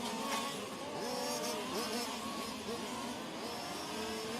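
1/5 scale on-road RC race cars racing at a world championship, their small engines buzzing and rising and falling in pitch as they pass, a steady layered drone without pause.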